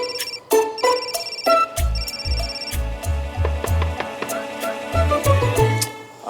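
Phone ringtone from repeated calls, a bright electronic melody looping in short bursts over a soft background beat, fairly close, with no talk.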